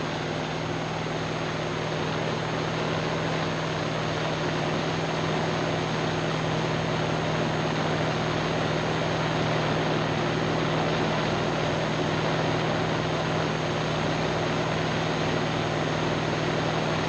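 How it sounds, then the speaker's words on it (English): A P-47 fighter's propeller engine drones steadily and loudly throughout, a constant even roar with no voices heard. "Okay to take off on number 4."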